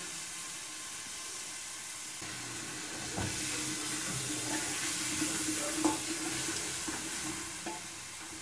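Garlic and onion frying in a pan with a steady soft sizzle throughout, joined by occasional stirring scrapes and a few light clinks of a utensil, growing slightly louder partway through.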